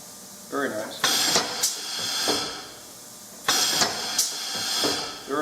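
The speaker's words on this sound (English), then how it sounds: "There is a lot of pneumatic force behind that 150-pound hammerhead." Pneumatic treadle hammer on an Iron Kiss Octagon 150 with a 150-pound hammerhead, two loud bursts of air hissing and exhausting with sharp clanks and thuds, close up, separated by a short lull.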